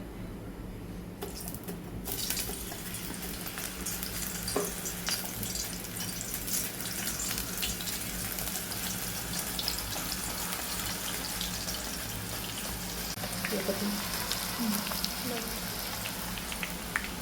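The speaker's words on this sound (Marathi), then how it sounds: "असं डायरेक्ट तेलातच किसायचं आहे" Banana grated straight into hot oil, the slivers frying as wafers with a steady, dense sizzle and crackle that continues the whole time, fairly close, with no speech.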